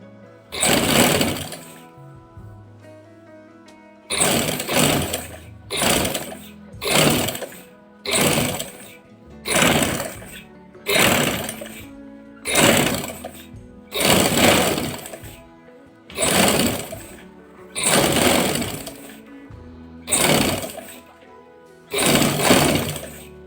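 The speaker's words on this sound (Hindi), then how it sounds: "टर्न करने के बाद मैं इसको सिलाई लगाना स्टार्ट करूंगी" A sewing machine stitches the round hem of a boy's kameez in about fifteen loud bursts of rapid whirring, each a second or so long. Short pauses between bursts mark where the fabric is turned.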